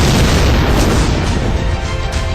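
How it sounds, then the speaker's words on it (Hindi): A powerful bomb blast set off during an army training exercise, a loud, sustained boom with heavy low rumble that fills the whole stretch without pause. "और फिर होता है एक जोरदार धमाका"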